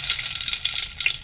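Mustard seeds, cumin and curry leaves crackling in hot oil for a tempering, a dense, even hiss of sizzling with tiny pops, close and steady throughout.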